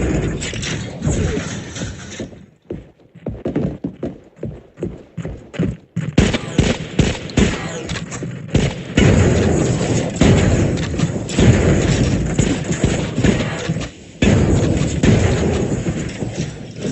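Rapid video game gunfire blasting a group of robots, loud and close, with dense bursts of shots and thuds in irregular clusters, some brief pauses between bursts, and no talking.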